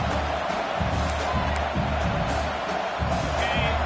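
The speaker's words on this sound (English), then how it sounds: "This crowd is trying to inspire this defense to make a big red zone stop." Football stadium crowd at an NCAA game cheering and roaring to urge the defense toward a red zone stop, a steady, dense wash of distant noise with no breaks.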